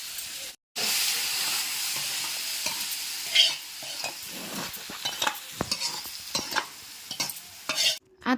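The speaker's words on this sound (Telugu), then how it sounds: "ఇలాగా చిటపట అంటే అవి బాగా వేగినట్లు." Tempering spices for a broad bean chutney crackle and splutter in hot oil, a loud continuous sizzle with sharp popping bursts scattered throughout, close up with no talking.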